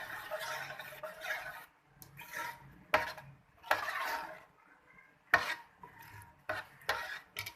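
Sheer khurma being stirred in a pot after cardamom powder goes in, with a spoon scraping and clinking against metal in soft, irregular strokes and taps, faint and close, no talking.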